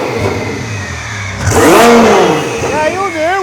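A 1000BHP Lamborghini with a custom fabricated exhaust, its engine blipped to about 4,000 rpm in a workshop: a loud, rising rev swell around the middle, then a couple of shorter blips, with an idle running underneath and voices in the background.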